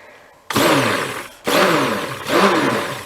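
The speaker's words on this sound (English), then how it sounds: "the immersion blender is also really loud" An immersion blender whirs through homemade soap batter in loud, steady bursts, stopping and restarting three times with a sharp onset each time and its pitch wavering as the blade churns the mixture; no one speaks.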